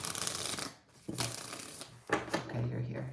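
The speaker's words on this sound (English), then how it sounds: "Shuffling for Aquarius." Tarot cards being shuffled by hand in three bursts of quick riffling and slapping, close and crisp, separated by brief pauses.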